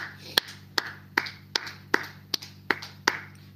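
Sharp, evenly spaced claps during a church service, about eight crisp beats in a steady rhythm, close and clear over a faint background hum.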